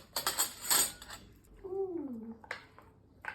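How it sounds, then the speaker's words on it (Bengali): Two spoons stir a spicy, tangy chana mixture with tamarind, giving quick metallic clinks and scrapes against the bowl early on, followed by a brief voice and a few softer taps. "দাঁড়াও দুটো চামচ দিয়ে ভালো করে করি"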